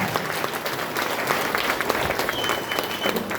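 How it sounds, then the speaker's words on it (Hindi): Vigorous applause from an audience at an event program honoring chairmen, a continuous wash of clapping at steady volume throughout. "जोरदार तालियां हमारे सभी चेयरमैन के लिए, जोरदार तालियां, जोरदार"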